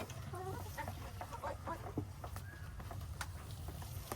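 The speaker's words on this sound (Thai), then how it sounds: "น้องไก่กินอย่างอร่อย" Chickens cluck softly in short, scattered bursts close by while eating, over a low steady background hum.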